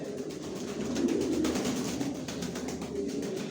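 Racing pigeons in a loft give low, soft cooing calls that rise and fall under a steady murmur, with faint ticking noises scattered throughout.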